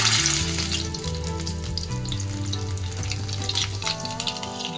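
Potatoes frying in oil for a Bengali katla fish curry crackle with a dense, close sizzle. A tonal musical background runs underneath, and nobody speaks.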